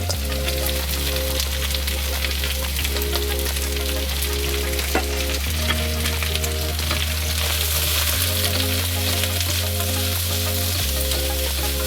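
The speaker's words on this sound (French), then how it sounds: "Je vais mettre tout de suite curcuma et gingembre et l'ail." Turmeric, ginger and garlic frying in a wok with vegetables and chicken, giving a loud, continuous dense sizzle and crackle that runs the whole time, with a steady low mechanical hum beneath.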